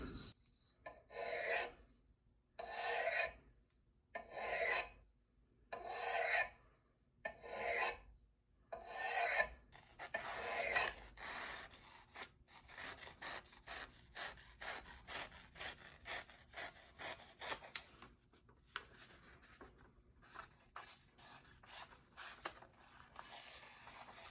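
A file rasps along the bit of a vintage Norlund cabin axe, first in slow, even strokes with pauses between them, then in quicker, shorter back-and-forth strokes, close and fairly quiet.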